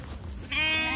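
A sheep on a farm in Lakhimpur Kheri gives a single loud, close bleat that starts halfway through and holds with a quavering tone to the end.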